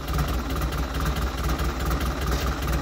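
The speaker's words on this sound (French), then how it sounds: "Le tracteur qu'on a démarré, c'était diesel." A diesel tractor engine idling close by, a loud, steady low rumble with an even chugging pulse that runs unbroken, with no voices over it.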